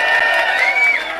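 A crowd at a gathering clapping and cheering for a former deputy governor, a short burst of mixed applause with a rising whoop-like voice, fairly loud and close.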